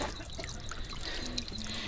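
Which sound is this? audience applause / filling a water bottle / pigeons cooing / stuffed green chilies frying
filling a water bottle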